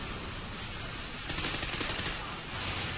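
Gunfire bursts crackle through a Call of Duty: Ghosts Blitz match on the FreeFall map, shotgun blasts loud and dense over a constant wash of game noise, with no voices.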